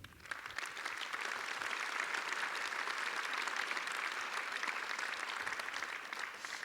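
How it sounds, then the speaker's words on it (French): An audience at a conference workshop applauds the speakers, a dense, even burst of clapping that holds steady for several seconds with a few stray sounds at the start. "Je vous invite à les applaudir."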